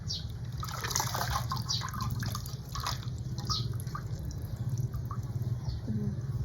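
Water splashes and drips steadily as hand-washed laundry is wrung out by hand, a constant wet wash of sound with close trickling throughout and no clear speech.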